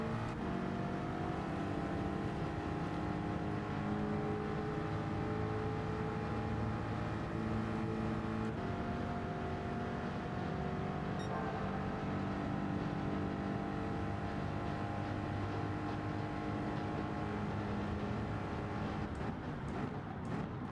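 Race car engines in Gran Turismo 7 drone loudly and continuously on a straight, several cars running together with a sustained high whine and layered tones, briefly shifting pitch before the pack roars on.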